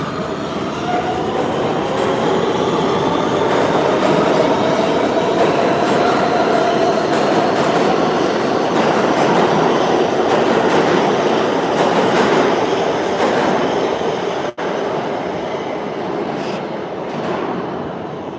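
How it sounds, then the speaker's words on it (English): A New York City subway train rumbles steadily into the station on the local track, wheels and carriages roaring loud and close with a faint high squeal, the noise easing slightly near the end. "The next Queens-bound train is now arriving on the local track."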